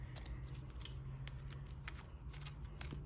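Trading cards shuffled by hand from a starter deck, a run of quick, crisp riffling snaps repeating close up over a steady low hum.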